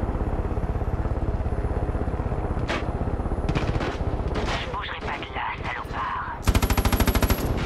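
Rapid machine-gun fire aimed at the player in the video game Far Cry 5, a long stream of fast, steady shots ending in a louder, denser burst near the close, with some voice mixed in.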